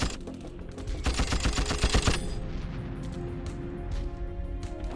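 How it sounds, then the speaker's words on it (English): Machine gun fire in a D-Day beach landing portrayal, a rapid rattling burst of loud shots lasting about a second, followed by a rumbling din with fainter distant bursts. "that's when the machine guns open up"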